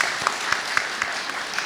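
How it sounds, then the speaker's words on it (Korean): A church congregation at a Korean Sunday worship service claps together in a steady rhythm, with about six evenly spaced claps over an even, close-sounding background. "우리 박수 한번 쳐주는 시간"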